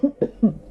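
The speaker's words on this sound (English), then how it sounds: "I took a sip of my drink and now I'm coughing to death." Three harsh coughs in quick succession from a woman right after sipping a drink, close and fairly loud, with a brief pause between each burst.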